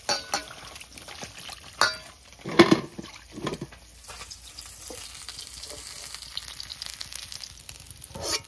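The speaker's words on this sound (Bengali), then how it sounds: "একটু মাছ ভাজা হতে মনে হয় 5 সেকেন্ড তো লাগবে" Fish, likely freshwater parshe, frying in a pan, with a steady close sizzle and a few sharp clinks and stirring knocks around the start, then continuous crackling hiss to the end.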